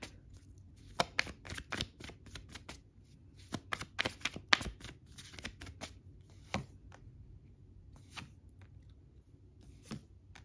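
Tarot cards being shuffled and drawn from a deck, a run of quick papery flicks and riffles in uneven bursts, close and fairly soft, with short pauses between clusters.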